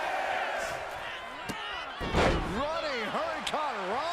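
A wrestler lands a running hurricanrana in the WWE 2K25 video game with one heavy slam on the mat, while the crowd roars and a commentator talks throughout.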